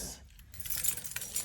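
Keys jangle close by in short metallic bursts while someone heads out the door with wallet and mask, a faint low rumble underneath.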